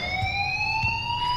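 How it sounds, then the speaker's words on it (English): A fire alarm in the video game Life is Strange rings with a steady, loud electronic tone that sweeps slowly upward, continuous throughout with no talking over it. "please turn off that alarm since that's your job"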